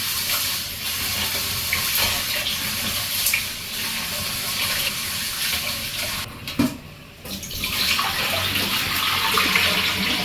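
Rice being washed in a pot under a running tap, a steady rush of water with sloshing and rinsing, briefly interrupted once midway before flowing on.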